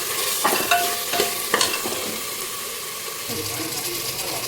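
Mutton sizzles in hot oil with spices for mutton curry, a steady frying hiss broken by a few clinks and scrapes of stirring early on, heard up close.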